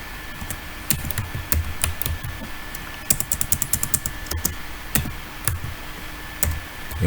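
Python code being typed on a computer keyboard, a close run of crisp key clicks in uneven bursts with short pauses and occasional heavier keystrokes over a faint steady hum.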